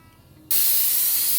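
A pressure cooker cooking bottle gourd dal stays quiet for half a second, then abruptly lets out a loud, close, sustained hiss of escaping steam as its whistle releases.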